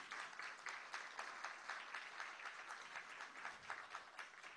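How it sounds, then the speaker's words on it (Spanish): Steady applause from an audience honoring a poet at a night gala of a world poetry festival in Venezuela, a dense, even patter of many hands that sounds distant and fairly faint throughout. "Aplauso para nuestra homenajeada"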